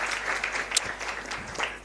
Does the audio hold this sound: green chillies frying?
no